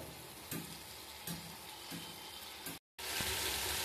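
Vegetables with turmeric and chili powder sizzle steadily in a pan for vegetable khichuri, with periodic scrapes of stirring and a brief dropout near the end.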